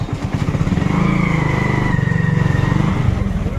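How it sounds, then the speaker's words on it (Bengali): A motorbike ridden fast along a rural road gives a steady, loud engine drone with a rapid pulsing beat and a faint whine, close and continuous throughout. "মানে বাইকে করে জোরে জোরে যাচ্ছি"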